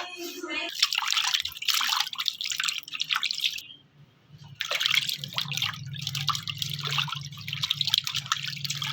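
Water trickles and drips steadily while tilapia fish are washed in a kitchen, a close splashing with a brief pause midway; a voice speaks faintly over it.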